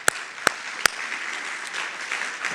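Banquet audience at Kinwell Academy applauding sponsors, a few sharp near claps at the start then a soft, steady spread of clapping from the crowd.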